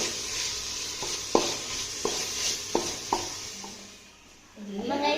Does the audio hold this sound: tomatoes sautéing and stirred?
yes